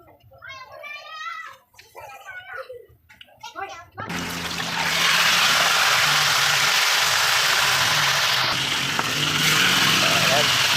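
Live tilapia frying in a home kitchen pan: a loud, steady sizzle starts abruptly after a few seconds of someone talking and then holds close and constant to the end.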